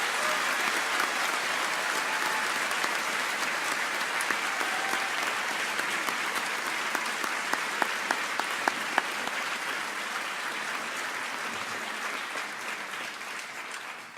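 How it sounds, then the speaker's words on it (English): Sustained applause from a convocation audience honoring graduating students, steady and dense throughout, with a few sharper claps standing out near the middle before it gradually thins toward the end. "Please join me in a round of applause for these students."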